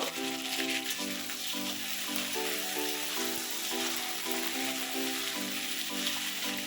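Sugar frying in a pan in a home kitchen, giving a soft, even sizzle that runs steadily throughout beneath a faint, regularly repeating tonal pattern.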